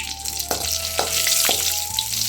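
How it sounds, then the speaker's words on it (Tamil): Onions and tomatoes frying in oil in a kadai, a continuous close sizzle broken by three evenly spaced clinks of a spoon against the pan, with no talking. "இப்போ நம்ம வடைச்சட்டி வச்சு எண்ணெய் ஊற்றிக்கிட்டு வெங்காயம் தக்காளி பிரியாணி எண்ணெய் போட்டு வதக்கிக்குவோம்"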